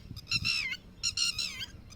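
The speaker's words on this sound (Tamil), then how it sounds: "இந்த குஞ்சை நம்ம கையில் எடுத்தோன்னே அது பக்கத்தில் இருந்ததுனால ரொம்ப சத்தம் போடுது பாருங்கள்" A red-wattled lapwing gives loud, harsh repeated calls close by while its chick is being handled in an open harvested farm field, two strident bursts of strained shrieking notes separated by a short pause, with faint low rustling underneath.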